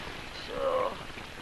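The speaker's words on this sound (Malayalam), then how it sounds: "ഈ മഴ കണ്ടോ?" Steady rain hisses evenly in a film comedy scene, with a short spoken phrase rising briefly over the downpour.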